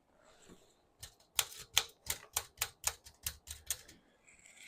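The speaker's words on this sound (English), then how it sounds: "It's a 1902 Underwood number 5 typewriter." A 1902 Underwood No. 5 typewriter types a quick run of about a dozen sharp, close keystrikes in a steady rhythm. Quiet mechanical rustling comes just before and after the run, with no voices.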